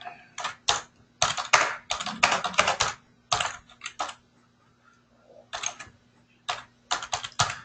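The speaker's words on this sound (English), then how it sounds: "all I do is start typing their names" Fingers type on a computer keyboard in quick bursts of clicking keystrokes separated by short pauses, close and clear over a faint electrical hum.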